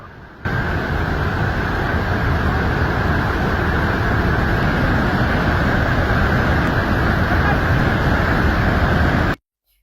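A powerful, constant roar of rushing water fills the scene, loud and unbroken for several seconds before cutting off abruptly.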